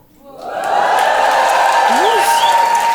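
Comedy show audience breaking into applause and cheering, swelling quickly from quiet into a loud, sustained wash of clapping with whoops and shouted voices over it.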